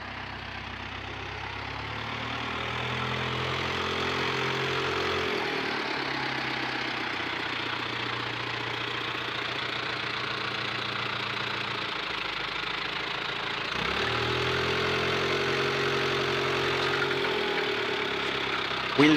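A farm vehicle's engine runs steadily and loudly throughout, a low rumbling drone that swells slightly at times as the wheels spin.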